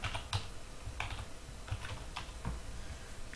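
Someone types a search on a computer keyboard, producing quick irregular clusters of soft key clicks close by, a few bursts with brief pauses between them and no talk over them.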